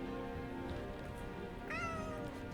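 A cat meows twice in a video game, close and loud, the second call rising sharply, over a steady game-music background.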